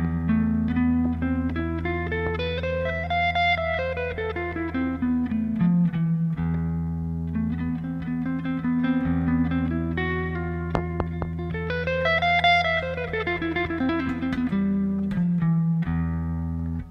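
Guitar playing a Japanese scale with flat second, fourth, fifth and flat sixth, single notes rising and falling in two clear runs over a sustained low drone, clean and steady with light reverb, no talking.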